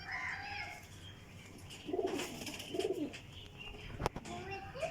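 Flying breed pigeons coo in two soft, rolling calls close by amid a busy background, with someone talking and a sharp knock near the end.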